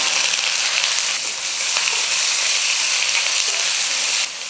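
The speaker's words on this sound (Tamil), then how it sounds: "ஒரு ரெண்டு வெங்காயம் வந்து நீல வக்கல் சின்ன சின்னதாக கட் பண்ணிக்கிட்டேன் அதை சேர்த்துக்கிறேன்" Finely chopped onions hit hot oil with popped mustard seeds and sizzle loudly and evenly throughout, then ease off slightly at the very end.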